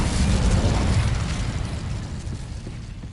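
Incendio fire spell cast in Hogwarts Legacy: a loud, full-bodied fiery burst that bursts out at once and rumbles, slowly fading away over about three seconds.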